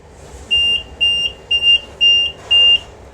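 Oven timer beeping as a sponge cake bakes at 200 degrees for cupcakes: five clear, evenly spaced electronic beeps, each about a quarter second long, loud and close with no voices.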